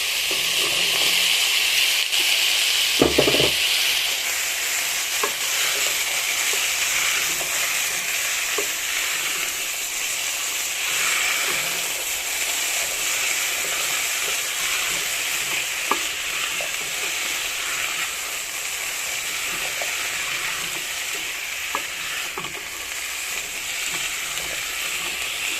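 Potatoes and malenge pumpkin fry in a pan with a steady, loud sizzle while being stirred, a brief scraping knock early on and small clinks scattered through the continuous hiss.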